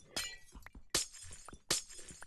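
Glass blocks shatter in a video game, three sharp crashing breaks spaced roughly evenly apart, each with a bright splintering burst that trails off, fairly quiet with brief clinks in between.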